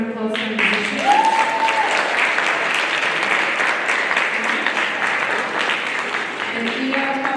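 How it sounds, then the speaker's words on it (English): A concert hall audience applauds musicians at a Carnegie Hall performance, sustained dense clapping for about seven seconds, with a few brief musical or vocal tones at the start and end. "Let's give another round of applause for the musicians."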